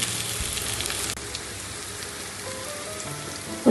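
Kudampuli sizzling in hot oil for a Kalanji fish curry, a steady crackling fry close by with no talk over it.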